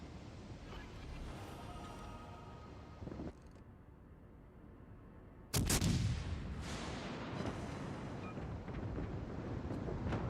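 Naval artillery booming in the World of Warships Legends video game, a heavy distant rumble followed by a loud sudden blast and a rolling, roaring tail, with no talk over it.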